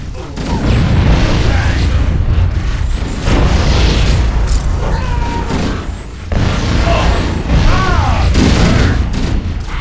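A frag grenade blast in Halo: Combat Evolved, a loud burst inside a dense, continuous firefight with steady gunfire and in-game voices shouting throughout.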